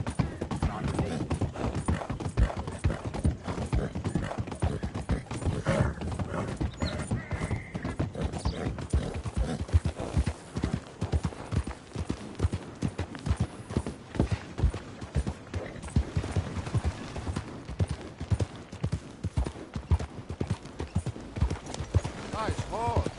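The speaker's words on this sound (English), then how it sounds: "Nice horse." Horse hooves clip-clop in a steady, continuous rhythm throughout, with a horse whinnying and people talking over the hoofbeats, in the video game Red Dead Redemption 2.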